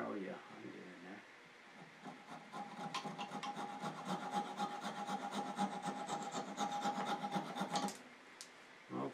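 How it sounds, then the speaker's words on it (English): A coping saw cuts through wood in a run of quick, rhythmic rasping strokes, close and fairly quiet, with a faint steady tone underneath and a brief pause at the end. "let's just use this coping saw, see if that'll work"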